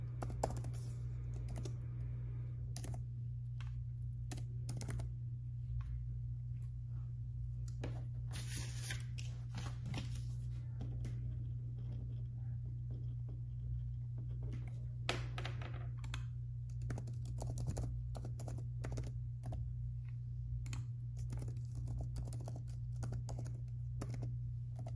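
Someone types on a computer keyboard, entering a username and password into a registration form, with irregular clusters of close, crisp keystrokes over a steady low electrical hum.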